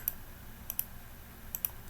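Light clicks of typing on a computer keyboard while a Linux emulator build is set up, a few quick taps in small clusters over a faint, quiet background.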